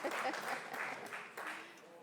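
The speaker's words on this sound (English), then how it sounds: "So let's give an extra clap for his spontaneous support." Conference audience at a TVET event clapping for a panelist, a short burst of scattered hand claps that fades quickly, somewhat distant and mixed with room noise.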